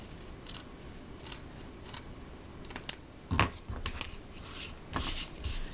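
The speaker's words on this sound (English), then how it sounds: "I think I'm going to trim this one up too." Scissors trim the edge of a paper card panel during card making, giving a few crisp snipping cuts, with one louder close snip midway and lighter ones after, over a quiet room background.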